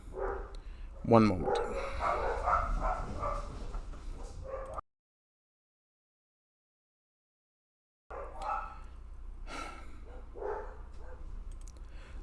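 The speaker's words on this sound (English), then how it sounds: "There are dogs in the house" Dogs bark and yip inside a house, a loud burst near the start heard under ongoing talk, then the sound cuts out to dead silence before more talk returns with faint barking beneath.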